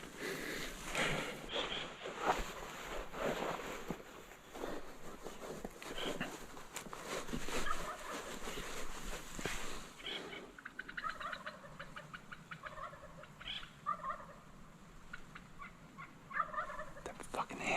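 A wild turkey tom gobbles from its roost in the California backcountry in spring, with several loud, rolling gobbles that come at intervals and carry over a steady outdoor background with some close rustling.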